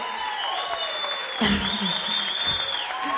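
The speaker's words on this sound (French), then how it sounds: "sous vos applaudissements, évidemment" Moderate applause from a concert-hall audience at a school singing contest final as a winner goes to collect her trophy, with a faint melody and a few voices mixed into the clapping.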